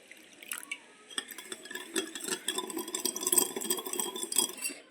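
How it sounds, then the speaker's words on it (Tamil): Water poured into a bowl of lemon juice sweetened with sugar or honey for homemade lemon ice, a light trickling splash with faint clinks and stirring against the vessel, close and steady, no talking. "தேவையான அளவு தண்ணி ஊற்றிக்கலாம்."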